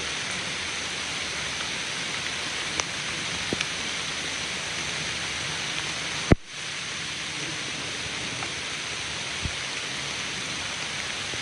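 Steady rain falls outdoors in a continuous, even hiss, with a sharp single crack midway and a few faint drops or taps scattered through it, and no voices.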